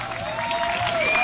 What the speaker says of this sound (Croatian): Jedan aplauz.